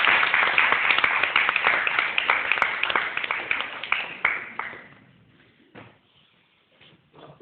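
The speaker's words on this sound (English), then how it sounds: "I would like to invite the audience to give Tara a warm round of applause" Conference audience claps for a speaker: a dense round of applause that thins into scattered claps and fades out, followed by a few isolated claps in near quiet.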